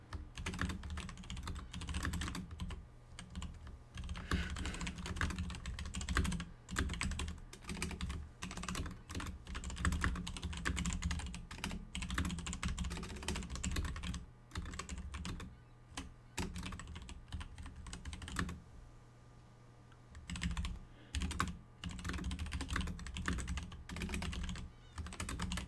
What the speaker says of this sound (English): Let me type this.